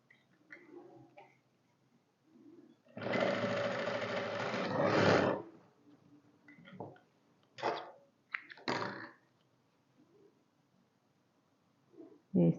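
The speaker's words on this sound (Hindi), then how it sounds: "फिर हम एक उल्टी साइड से सिलाई लगाएंगे।" A sewing machine stitches fabric in one steady two-second whirring run, with scattered fainter clicks and handling noises before and after.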